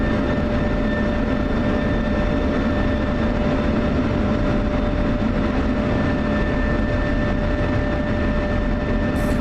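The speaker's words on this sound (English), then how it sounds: "we got a C-130 on final here" A C-130 on final approach in a flight simulator game, heard as a steady, unbroken engine drone with tonal whine lines holding level throughout, loud and alone with no talking.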